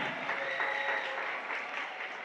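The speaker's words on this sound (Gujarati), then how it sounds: "જોરદાર તાળીઓ પાડો એકવાર." An audience at a school Navratri festival prize ceremony claps in a dense, sustained burst, steady and fairly loud throughout, with a faint voice underneath.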